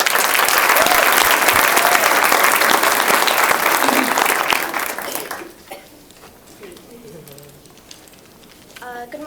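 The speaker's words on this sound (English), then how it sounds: "Please give her a round of applause as she takes the mic" An audience claps loudly for a student stepping up to speak at a school event, with dense applause for about five seconds before it dies away into quiet room noise and a voice begins.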